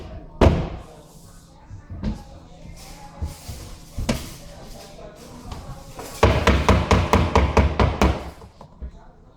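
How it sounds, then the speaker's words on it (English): Rubber mallet knocking waste basket panels together: scattered single thuds early, then a rapid run of repeated blows near the end, close and solid. "Make sure to press or hammer all the pieces together with a rubber mallet if necessary."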